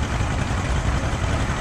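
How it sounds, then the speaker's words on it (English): A Rumely steam engine moves along an antique machinery parade route in Ohio, giving off a steady, heavy low rumble that stays at an even level throughout. "This is a Rumely steam engine,"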